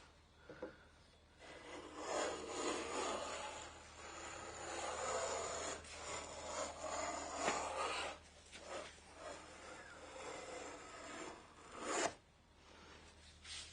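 Snipe bill planes cut cedar crown moulding in a series of rasping, scraping strokes, each a few seconds long with short pauses between, close and fairly quiet, with no talking.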